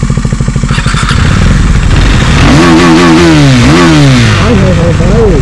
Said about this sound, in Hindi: भाई पूरी की पूरी दूसरी बाइक की आवाज सुना